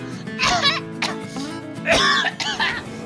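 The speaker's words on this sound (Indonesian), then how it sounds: "Kasihan yang batuk." Two bursts of harsh coughing with throat clearing, close and loud, separated by a short pause, over faint background music.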